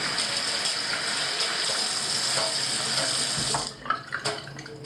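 Tap water runs steadily over hands being rinsed after rubbing Creole seasoning into scored bluegill, a continuous close hiss that cuts off near the end, leaving a few wet splashes and drips.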